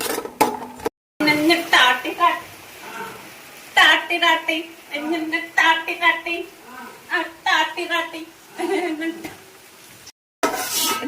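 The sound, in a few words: stirring cashews sautéing in a pan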